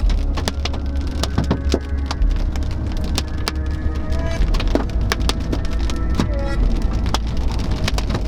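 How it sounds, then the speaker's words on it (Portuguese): Hail from a supercell storm strikes hard surfaces in sharp, irregular cracks and taps, scattered densely over a constant low rumbling background. "uma nova supercélula nos brindou com alguma trovoada e granizo"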